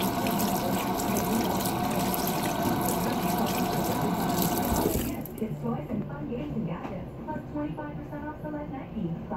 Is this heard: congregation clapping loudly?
no